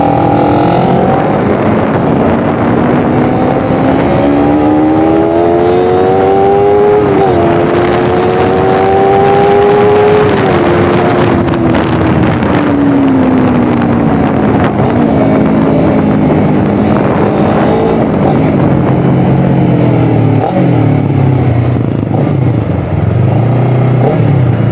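A motorcycle engine with an aftermarket 3 Tech exhaust revs up and down, its tone rising and falling in pitch, loud and close with wind buffeting the microphone throughout.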